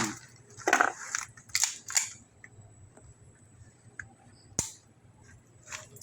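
A gun being test-fired outdoors, with several sharp, close cracks and pops in uneven bursts, then a single loud report, all over a quiet low hum.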